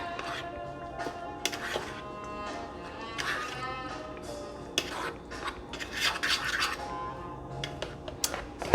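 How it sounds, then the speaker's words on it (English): Shrimp being stirred through batter in a bowl: a steady, wet scraping and clicking of a utensil against the bowl, with irregular little rasps and clinks over several seconds, close and fairly quiet, with no talk. "And then I'm just going to drop all of it into the batter. And give that a good stir."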